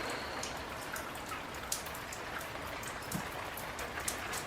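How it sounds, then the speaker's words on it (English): Rain beginning to fall on an old tent, a soft, steady patter of drops on the fabric with a few slightly sharper taps, fairly faint and close, with no voices. "And bang on cue, it starts raining."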